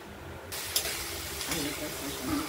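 Spice masala frying in oil for a catla fish and potato curry starts sizzling abruptly and keeps up a loud, steady hiss, with a couple of faint stirring scrapes.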